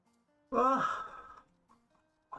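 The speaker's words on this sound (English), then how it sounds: "I'm yawning so much" A single person lets out one long, breathy yawn that swells and then fades, followed by faint small sounds in otherwise quiet surroundings.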